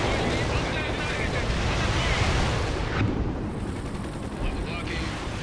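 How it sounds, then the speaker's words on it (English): Cluster bombs burst across the battlefield in the strategy game World in Conflict, a sustained, loud rumbling barrage of overlapping explosions with a sharp crack midway and no letup. "Cluster bombs are out."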